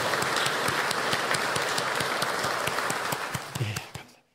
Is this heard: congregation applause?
yes